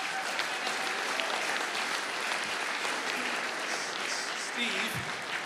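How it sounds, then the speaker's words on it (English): An audience at a Blues hockey Hall of Fame induction ceremony applauds their associate coach, with sustained, dense clapping from a large crowd throughout and a few voices mixed in. "And Steve Ott, round of applause for our associate coach, Steve Ott."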